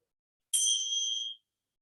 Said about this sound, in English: So good to hear that lovely ding.